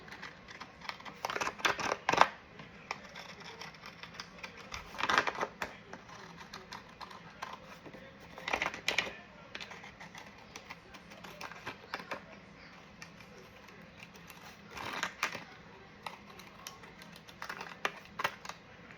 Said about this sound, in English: we'll cut this one out with the pinking shears.